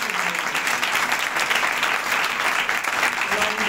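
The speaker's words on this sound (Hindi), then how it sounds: "आइए यीशु के लिए जोरदार तालियां बजाएं।" A church congregation bursts into loud, sustained applause for Jesus during an Urdu/Hindi sermon, dense clapping that holds steady throughout with no pauses.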